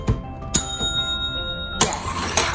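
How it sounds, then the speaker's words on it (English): A tabletop game bell is struck several times during a family song-guessing game, sharp bright dings spaced irregularly, close and fairly loud with a ringing tail, no talk. "you press the bell"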